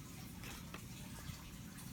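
Water squeezed out through a small hole in a hollow topwater popping frog fishing lure, heard as a faint, close, steady wet trickle with a few brief splashy ticks, and no voices.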